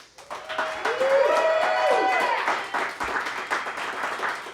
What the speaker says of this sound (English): let's give another round of applause for Buffalo Nichols